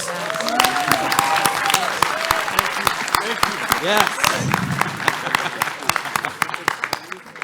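A live convention audience at PAX West applauds a panel on Game Boy Advance games, a sustained wash of clapping and crowd noise close by, with a voice speaking briefly over it.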